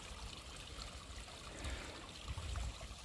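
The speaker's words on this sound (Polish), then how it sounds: "Tam sobie lekko spływa rzeczka, dalej płynie, nie zatrzymał jej całkiem." A small stream trickles steadily out of a beaver-dammed pond, a soft continuous babble of flowing water heard close up and faint.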